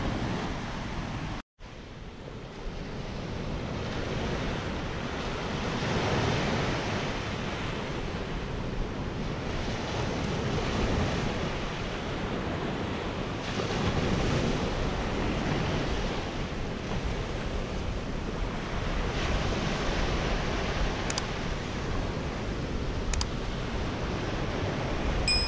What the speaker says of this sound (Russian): не полюбоваться на море и послушать шум накатывающейся волны